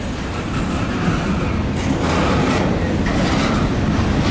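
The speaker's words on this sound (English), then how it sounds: "another train coming, guys." A CSX mixed freight train rolls past close by in a loud, continuous roar of wheels and rail noise with faint rhythmic clatter and no talking.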